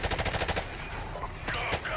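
Gunfire in Call of Duty: Modern Warfare Remastered opens with a rapid automatic burst, then breaks into a couple of separate loud shots after a short pause.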